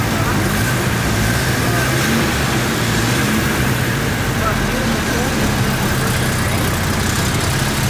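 A car engine that has just started idles at steady, loud volume throughout, a constant low rumble with a faint hum, while people talk over it.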